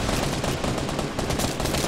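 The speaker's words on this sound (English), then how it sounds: "I got like four dudes shooting at me right now" Rapid automatic gunfire from the Fortnite battle royale video game, loud and dense, with shots rattling continuously over about two seconds as several players fire at once.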